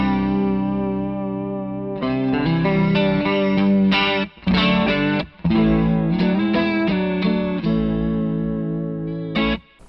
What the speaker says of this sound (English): This is more of your typical vibrato sound.